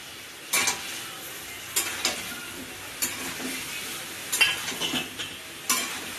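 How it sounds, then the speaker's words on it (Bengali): Prawns being stirred and sautéed with salt, turmeric, cumin and coriander powder in a kadai for lau chingri: a steady sizzle broken by repeated scraping strokes of a spatula at uneven intervals, close and clear with no talking. "ভালো করে নাড়বো, একটু কষা"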